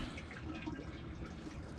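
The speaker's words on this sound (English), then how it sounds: "So I'm filling this up with hot water" Hot water runs steadily from a tap into a maple sap tank, a soft continuous rushing and splashing heard fairly close with no voices.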